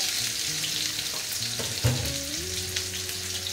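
Chicken pieces for Goan chicken cafreal sizzle steadily in a hot pan, a continuous crackling fry with a brief louder clatter near the middle and some low tonal hum underneath, no talking.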